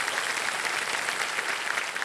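Dense, steady applause from a large studio audience at a televised quiz show, sustained evenly for the full two seconds with no pauses or voices on top.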